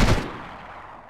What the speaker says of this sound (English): this is the only time that I can appreciate the burst fire mode